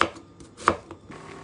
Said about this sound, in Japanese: 適当に切ってきます。